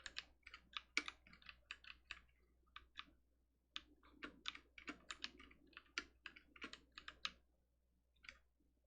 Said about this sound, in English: about the keyboard clicking